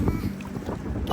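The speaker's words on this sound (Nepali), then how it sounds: "हावा पनि डेन्जर चलिरहेको छ" Strong wind buffeting the microphone outdoors in summer Dubai, a continuous low rumble with gusty bursts, with faint voices partly under it.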